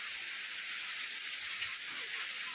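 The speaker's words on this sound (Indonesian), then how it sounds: "Udah sampe hujan-hujan." Steady rain falling outdoors in Indonesia, a dense even hiss that stays loud and continuous throughout with no voices over it.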